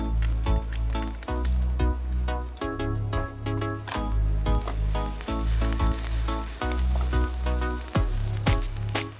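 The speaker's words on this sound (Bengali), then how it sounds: "প্রথমে আমি চপ গার্লিক দিব। Chop garlic, গার্লিকটা just chop onion 10 সেকেন্ডের মতো।" Chopped garlic and onion fry loudly in a pan, a dense close sizzle with a steady low rhythmic thumping underneath, no voices.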